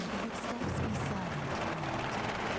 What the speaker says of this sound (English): let's get away from this loud helicopter